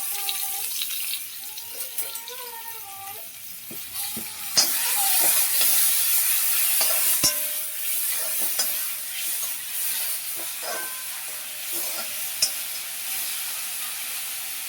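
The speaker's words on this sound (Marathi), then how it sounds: "कढीपत्ता घालून आपण याच्यामध्ये एक आणि अर्धा टोमॅटोची पेस्ट टाकूया" Tomato paste frying with curry leaves, a steady sizzle with scattered clinks and scrapes of stirring, and a brief whistling tone near the start over a moderate background hiss.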